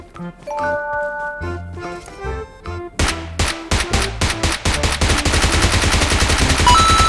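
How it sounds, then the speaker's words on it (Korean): Mobile battle royale game audio with chiming musical tones, then a rapid flurry of loud gunshots and automatic fire that grows denser and continues to the end. "자 남쪽의 총소리."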